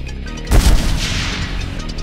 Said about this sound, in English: Eventually the bottle material fails, and this leads to a huge explosion.